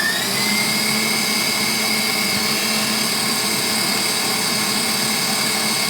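Electric mixer beating sugar in a bowl for an old-fashioned chocolate pie, a steady loud whirring drone with a high motor whine held throughout.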